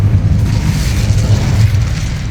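A fire spell cast in the Hogwarts Legacy video game lets out a dense, rumbling burst that roars steadily for a couple of seconds at close range with no voices over it.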